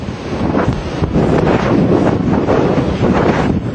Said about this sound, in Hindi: हुदहुद की आहट के साथ ही समंदर में ऊंची ऊंची लहरें उठने लगी।